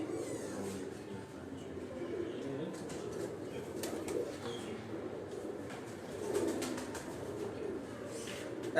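Kot Commander breed pigeons on a rooftop in Sialkot make a soft, low continuous cooing, faint and steady, with brief rustles that may be wing flaps.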